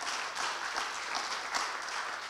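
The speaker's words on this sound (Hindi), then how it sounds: "क्यों ना उनको हम ताली बजा के धन्यवाद दें" An assembly audience applauds with a steady, dense patter of many hands, at moderate loudness and with no voices over it.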